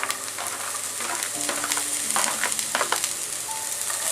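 Capsicum and cabbage for vegetable fried rice stir-fried on high flame, a loud continuous sizzle with repeated scraping and tossing of the ladle in the pan throughout.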